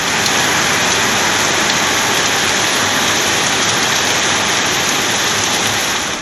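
Heavy rain pours down in Tamil Nadu in a dense, unbroken hiss of drops striking surfaces, loud and close throughout with no voices.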